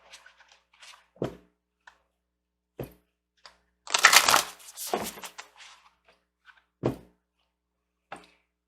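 Tarot cards being shuffled and drawn during a Scorpio reading, heard as sparse, soft card slaps and rustles, with a denser flurry of shuffling in the middle, close by and without speech.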